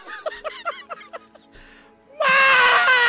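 A voice imitates a scream during a Halloween ghost story: a run of short rhythmic whimpering cries, a breathy pause, then a loud sustained wailing shriek close to the listener.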